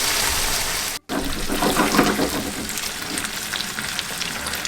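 Pork chops sizzle loudly and steadily in a pan as they caramelise, a dense close crackle that cuts out for a moment and then resumes with no one speaking.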